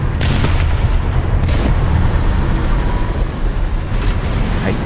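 Cannon fire in the War Thunder tank game, with a heavy shot slamming into a Tiger tank: loud booming blasts with sharp cracks over a constant rumbling engine drone.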